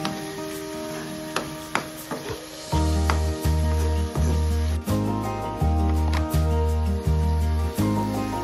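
Tuna fish being stirred in a sizzling pan, a bright crackling hiss with scattered spatula clicks, while a rhythmic, steady musical beat plays loudly over it.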